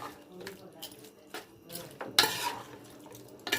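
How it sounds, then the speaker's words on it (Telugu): Chicken being mixed by hand or spoon with tomato and ginger garlic paste in a pot, giving soft wet stirring and scraping sounds with a few utensil clinks and a louder burst partway through. "అల్లం వెల్లుల్లి పేస్ట్ వేసుకున్న తర్వాత ఇలా మిక్స్ చేసుకోవాలి చికెన్ని బాగా."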